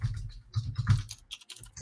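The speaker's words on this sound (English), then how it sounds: "You're typing loud like me." Loud, close typing on a computer keyboard, with quick clusters of clacking keystrokes and short gaps over about two seconds.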